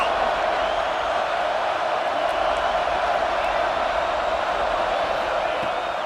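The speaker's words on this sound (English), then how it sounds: "This crowd rising up, sensing that its defense needs some help" A large football stadium crowd roars in a dense, sustained wall of cheering that holds steady throughout, with a commentator talking over it.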